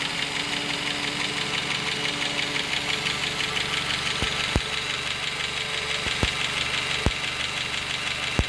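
An old tractor engine idles steadily with a rough, knocking rhythm and a constant mechanical drone, punctuated by a few sharp clanks near the end.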